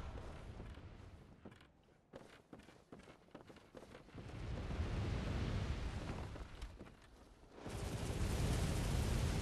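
Gunfire from an enemy in the video game Bloodborne: a run of sharp, sudden blasts in the first seconds, giving way to a loud, continuous rumbling roar with no talk.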